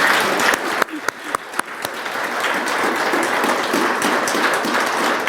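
A church congregation claps at a worship service, starting with a few scattered claps and building into steady, sustained applause that fills the room.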